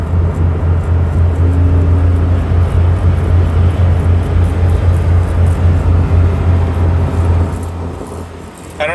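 An automatic Suzuki Cappuccino EA21R is under throttle, with a pulsing vibration suspected to come from a worn U-joint. The cabin is filled with a loud, steady low drone that throbs gently, then eases off near the end.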